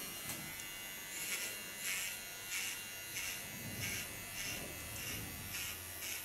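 Electric hair clipper trimming a line into hair for a punk-style A-line bob, a quiet steady buzz with regular strokes pulsing roughly every half second.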